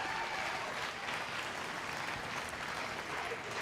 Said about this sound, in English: one more round of applause and commend these kids